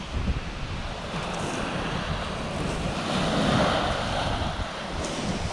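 Steady surf washes onto a beach below chalk cliffs on the Jurassic Coast, a continuous loud rush of breaking waves mixed with strong wind buffeting the microphone.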